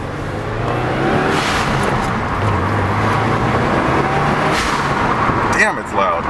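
Engine of a 2015-or-later Subaru WRX fitted with a dual-port blow-off valve, a loud, close, steady rumble running throughout, outdoors in wind, with a brief voice near the end.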